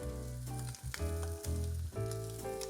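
Wild mushrooms sizzle steadily in a hot pan, a loud close frying hiss broken by brief dips as the pieces are moved, with no voices.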